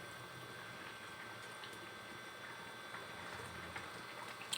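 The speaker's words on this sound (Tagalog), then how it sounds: "Kumukulo na ang ating sotanghon soup" A pot of sotanghon soup with sayote at a steady boil, giving a continuous bubbling wash with small pops rising near the end.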